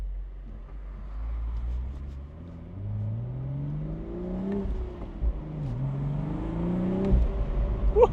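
A 2025 BMW Z4 M40i roadster accelerates after a clutch dump, its engine climbing in pitch through several gears with short dips between pulls, a moderately loud rising growl heard from the cockpit.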